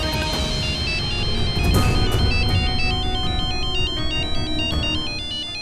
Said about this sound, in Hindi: विशेष का फोन?